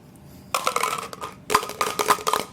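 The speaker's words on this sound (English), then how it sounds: "I didn't like to hear the noise of dice" Two quick bursts of dice clattering and tumbling across a table, each rattling for about a second before settling, close by with no voices.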